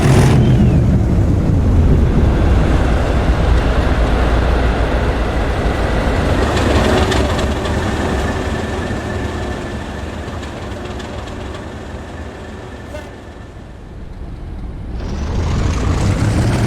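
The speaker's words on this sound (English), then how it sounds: "The train now departs Seaforth, with 37428 leading, carrying the infamous Leafbusters headboard" A train led by locomotive 37428 departs Seaforth in a train simulator, a loud, continuous diesel rumble and rolling rail noise that eases slightly, then swells again.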